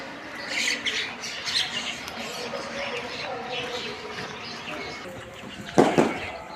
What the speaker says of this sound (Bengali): শালিক পাখিগুলো এখানে খাচ্ছে সকালবেলা।